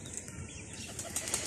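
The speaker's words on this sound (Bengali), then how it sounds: "আমাদের কবুতরটা কি সুন্দর করে ওই পাখনা মেলি একদম" A pigeon flaps its wings in a short, soft flurry of wingbeats, faint and close, with no talking.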